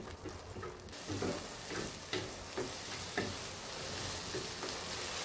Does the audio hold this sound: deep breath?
no